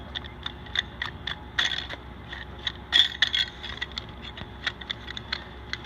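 A 1/4 inch disc being fitted onto an angle grinder with the ridge of the nut facing the disc, heard as close, irregular small metallic clicks, taps and light scrapes of handling, with no voices.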